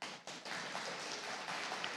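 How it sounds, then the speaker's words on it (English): Audience applause at a horse training session during a trainers' competition, a steady broadband patter of many hands clapping at moderate distance for the whole two seconds, with no talk. "You're gonna have to get over the clapping."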